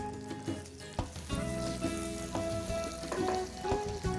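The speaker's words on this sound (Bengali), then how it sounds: "এবার কাঁচা আমগুলো দিয়ে দেব।" Raw mango pieces fry in hot oil with five-spice seeds and a little dried chilli in a wok, giving a steady, dense sizzle with sharp crackles and stirring scrapes, a faint tonal hum beneath, no voices.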